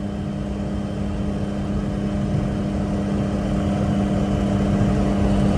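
A VR6 car engine drones steadily at part throttle on a highway, a constant loud hum with road and wind noise that builds slightly toward the end.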